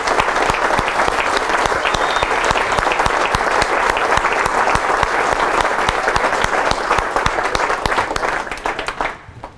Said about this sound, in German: wenn er denen einen riesigen Applaus gibt